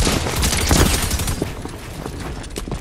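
Rapid bursts of automatic gunfire ring out in a squad-based shooter match, dense and fairly loud throughout, with sharper individual shots scattered through the burst.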